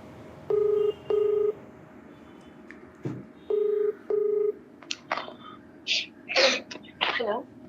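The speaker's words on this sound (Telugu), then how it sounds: "ఒకసారి కాల్ చేస్తానండి." Telephone keypad dialing tones for a phone call, four short beeps in two pairs separated by a pause, followed by a sneeze-like burst and brief voice sounds.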